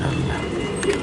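Pigeons caught from a loft coo softly close by in a brief burst, low throaty calls mixed with a voice speaking.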